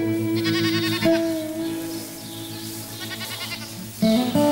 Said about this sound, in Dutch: Hier ben je al je geiten. Er zijn 400 geiten.